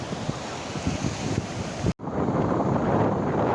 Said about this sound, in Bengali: ওই দেখো ওখানে কতটা ঢেউ দেখো